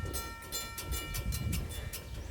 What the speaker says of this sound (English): kind of sounds like a SafeTran mechanical bell you would find on the Huckberry Railroad